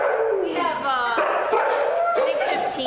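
Siberian husky sled dogs bark, yip and whimper close by in a dense, overlapping chorus of high, wavering cries with no break.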